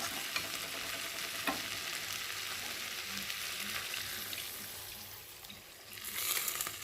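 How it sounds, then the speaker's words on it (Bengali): Water poured into spice paste frying in oil for a Bengali fish curry with taro, a steady sizzling hiss and stirring with a brief pouring rush near the end, no talk. "আর এখন আমি পরিমাণ মতো জল দিয়ে দেবো।"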